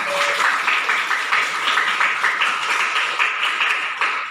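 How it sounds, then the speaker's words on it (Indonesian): Students clap steadily in a classroom, a dense, even patter of many hands sustained throughout. "Dari kelompok 1 sampai kelompok 6 beri tepuk tangan."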